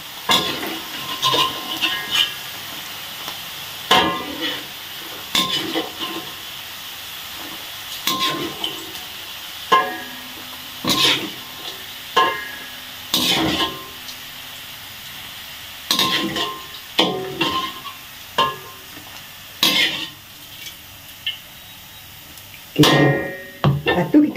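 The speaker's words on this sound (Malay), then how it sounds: "Kita goreng yang garing." Crisp tempeh fries in a pan while a utensil repeatedly stirs and scrapes it, producing a soft sizzle beneath irregular metallic clinks and knocks spaced every second or two.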